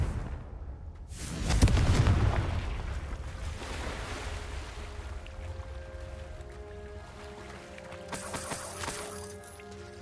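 A Confringo fire spell explodes in Hogwarts Legacy, a heavy booming blast early on followed by a long roaring, whooshing decay that fades slowly, with a fainter crackle returning near the end.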